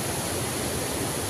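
A waterfall pours in a steady, loud, unbroken rush of broadband water noise that fills the whole stretch with no other sound on top.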